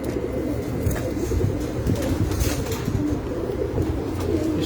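On a rooftop pigeon loft a pigeon coos in steady low rolling calls close by, with a few soft wing flaps and flutters mixed in over a constant background.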